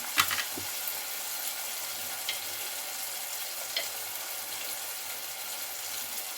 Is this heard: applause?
no